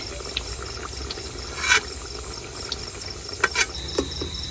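Insects chirp outdoors beside a village kitchen where rice-flour mung pakon pitha fry in oil, a steady cricket-like trill with a few sharper clicks and ticks over a quiet background and no talk.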